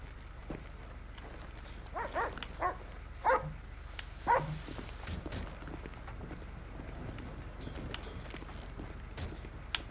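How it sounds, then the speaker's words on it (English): A police dog in GTA V with the LSPDFR mod barks a few times in quick, faint bursts over a low background hum, with scattered footstep-like taps around it. "Heard him barking."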